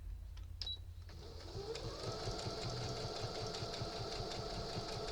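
A sewing machine stitches a rag lap quilt, starting with a few clicks and a brief whir, then running steadily with a rapid mechanical chatter and motor hum, close and fairly quiet.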